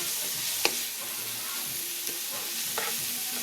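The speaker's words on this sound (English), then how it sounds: "I started stir frying my veggies" Vegetable sofrito stir-frying in a pan for Ecuadorian seafood soup, a steady sizzle with a few sharp clicks of a utensil against the pan, close and with no talk.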